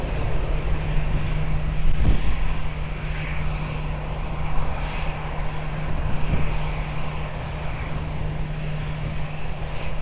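A jet airliner takes off from runway 20 at Lisbon Airport, its engine roar steady and broadband throughout, with a low constant hum underneath and no talk.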